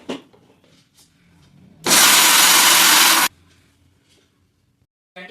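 An electric mixer grinder roars loudly for about a second and a half, grinding roasted peanuts into powder, then stops abruptly, with quiet handling noises before and after.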